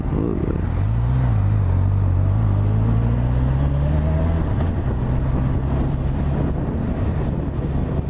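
A motorcycle engine drones close by on a road near Bragança Paulista, its pitch rising then falling as it passes, heard under heavy wind rumble from a moving rider's microphone.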